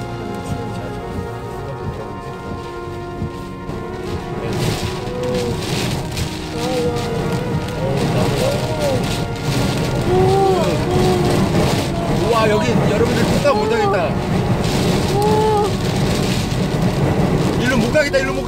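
Strong typhoon Maysak winds and pounding sea waves on Chuja Island, heard as a loud, continuous roaring rush with gusty low rumble throughout, while people talk excitedly over it.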